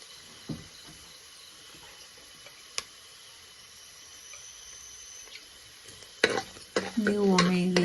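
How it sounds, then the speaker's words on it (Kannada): Urad dal fries in oil in a pan for chitranna, a low sizzle with occasional scrapes of a spoon, then louder stirring and a squealing scrape near the end, close up without talk. "ಫ್ಲೇಮಲ್ಲಿ ಇಟ್ಟು ಸ್ವಲ್ಪ ಫ್ರೈ ಮಾಡ್ಕೊಳ್ಬೇಕು."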